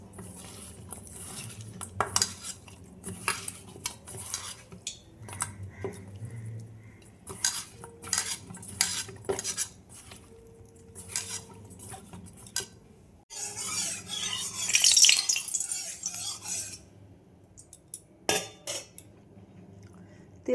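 Bhola fish is being mixed with salt and turmeric, giving intermittent close clinks and wet rubbing, with a louder scraping burst partway through.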